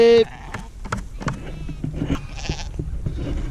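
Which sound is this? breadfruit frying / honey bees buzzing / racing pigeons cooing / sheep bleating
sheep bleating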